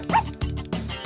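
A dog gives a few quick, close yips in a short burst.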